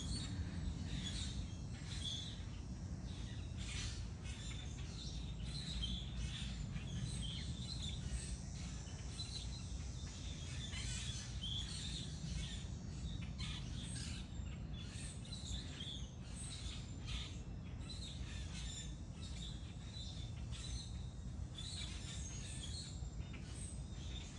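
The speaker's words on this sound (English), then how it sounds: "We have blackbirds all over the place today." Blackbird calls chirp repeatedly over a faint, steady outdoor background, scattered throughout with no talking.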